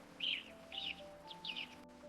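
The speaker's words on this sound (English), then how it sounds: "Listen, the birds are singing." Birds chirping in short, bright phrases repeated about once every half second, clear and fairly near, over a faint steady hum.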